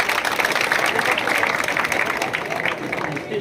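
Applause from an audience at a fire brigade safety demonstration, a steady dense wash of clapping lasting a few seconds with a busy crowd background.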